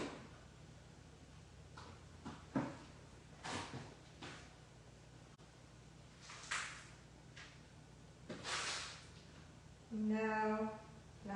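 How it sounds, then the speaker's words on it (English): Someone rummages through a desk drawer at a craft table, producing scattered soft knocks, slides and rustles of items being shifted, ending in a brief louder rattle; quiet and close, with no talking. "Hang on, let me see if I can find one in my drawer."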